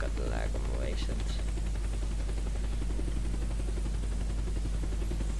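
Helicopter in the video game Unturned gives a continuous rotor drone and engine hum under a dense noisy mix, with a voice briefly audible near the start.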